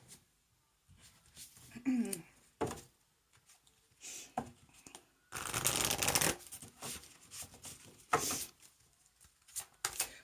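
Oracle cards from the Lightworker Oracle deck are shuffled in several brisk riffling bursts, the longest near the middle, close and clear, with a few soft spoken words and quiet pauses between them.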